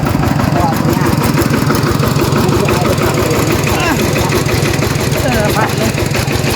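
A walking tractor engine idles loud and close with a steady, fast, chugging rumble throughout, and voices can be heard over it.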